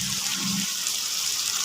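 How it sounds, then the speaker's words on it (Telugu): Water is poured into a curry cooking in a pan at home, a steady, close hiss and splash that runs through the moment with no one talking. "కొంచెం వాటర్ పోస్తా."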